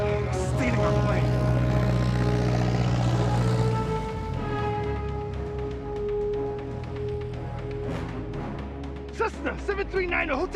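A light Cessna plane flies with a steady propeller and engine drone that shifts in pitch, mixed with background music and movie sound effects.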